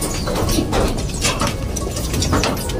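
Racing pigeons in a loft coo in low, throaty repeated calls, close and fairly loud, overlapping continuously with faint rustling and no talking.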